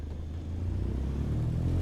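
A steady, loud aircraft engine drone from Microsoft Flight Simulator, a low continuous rumble holding even throughout with no talk over it.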